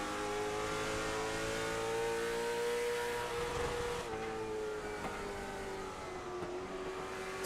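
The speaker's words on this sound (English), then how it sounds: "I love the sound of these things when they hit the chip" Late model race cars roar around North Wilkesboro in the iRacing sim with a sustained buzzing engine note that dips briefly twice as the throttle lifts, fairly faint and with no talk.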